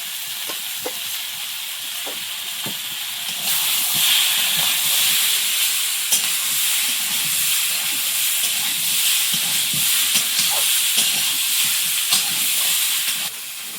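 Tomatoes, chillies and spices fry in a pan with a steady, loud sizzling hiss that grows stronger partway through, broken by faint scraping stirs.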